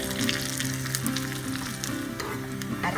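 Coconut with curry leaves browns in a hot pan, producing a loud, even sizzle with crisp spitting pops over a steady backing tune, without any talking.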